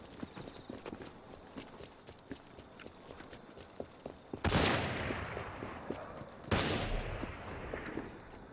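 Pistol duel gunfire in the video game Assassin's Creed Syndicate: two loud, sharp shots a couple of seconds apart burst over a busy background of hoofbeats and street ambience, each blast trailing off.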